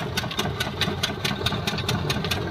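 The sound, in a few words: tractor engine idling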